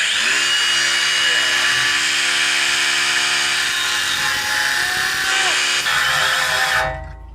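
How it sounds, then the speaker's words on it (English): A cordless grinder cuts into heavy steel with a loud, continuous high-pitched whine and grinding rasp, close up, slowing and cutting out abruptly at the end as the battery dies. "I think we'll start off with the grinder"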